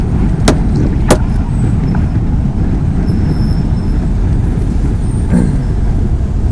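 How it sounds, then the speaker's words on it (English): A dump truck rolls along a storm-damaged stretch of highway OR-204 buried in slide material, its steady low engine rumble loud and close throughout, with a couple of sharp brief clanks near the start. "Let's drag our feet and let this dump truck around."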